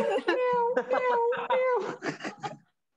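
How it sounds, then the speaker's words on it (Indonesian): An orange cat meows repeatedly in a series of drawn-out, tonal cries, close and fairly loud, with people talking in the background. "Kucing oren."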